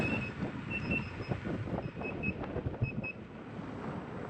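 Repeated short high beeps from an electric unicycle's speed alarm sound in intermittent bursts over wind and road rumble as the wheel rides along.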